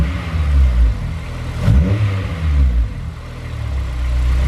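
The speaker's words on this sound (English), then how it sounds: "We'll just blip the throttle," A Honda S2000 engine, warmed up, idles with a steady low rumble, then a sharp throttle blip revs it up briefly and it settles back to a stable idle, close and loud.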